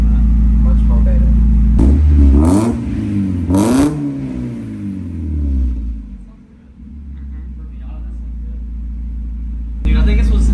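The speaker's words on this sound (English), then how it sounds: "we're gonna start it up and see how it sounds. That's nice. That rumble's nice." A Mazda Miata fitted with an ISR catback exhaust fires up close by, blips through a couple of sharp revs, then settles into a deep, steady idle rumble. Voices can be heard over it.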